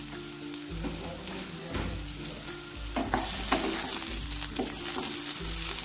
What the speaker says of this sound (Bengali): আলুটাকে নাড়িয়ে চাড়িয়ে দিলাম।